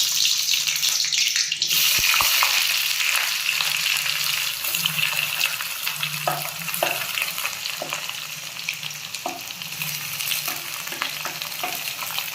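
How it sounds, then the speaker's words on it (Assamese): Whole cumin and a few fenugreek seeds hit hot oil in a kadai, producing a continuous loud crackling sizzle, punctuated by occasional light spatters and stirring taps. "গোটা জিৰা আৰু মেথি গুটি কেইটামান দিছোঁ"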